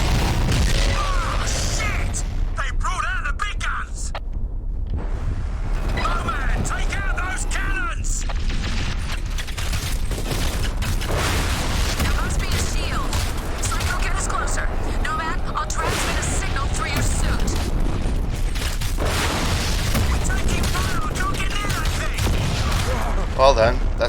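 Cannon fire and explosions in the video game Crysis, a dense barrage of booms, bursts and mechanical clatter running throughout, loud and continuous with voices talking over the battle.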